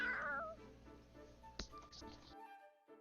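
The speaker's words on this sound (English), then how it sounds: "Oh, it's a cat. Looks like something spooked it." A startled cat meows in the Fire Emblem: Three Hopes video game, a drawn-out, wavering cry up front, then a few softer, shorter sounds trailing off into silence.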